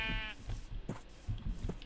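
A Minecraft sheep gives a short bleat at the start, faint and brief against low background game noise.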